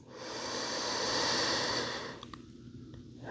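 Slow, soft breaths, a long airy exhale fading into quiet during a yoga rest pose, close and gentle.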